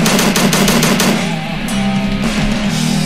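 Rapid automatic gunfire in the horror game Slendytubbies: Awakening, a dense stream of shots over tense background music, loud and close for the first second before easing into steady rattling.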